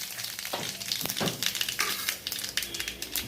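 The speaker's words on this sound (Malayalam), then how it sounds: "അതിലേക്ക് 1 ടീസ്പൂൺ കടുക് ഇട്ടിട്ട് കുറച്ച് കറിവേപ്പിലിടാം." Mustard seeds and curry leaves frying in hot coconut oil, a crackling sizzle with sharp popping bursts scattered throughout, fairly close and steady, with no talk.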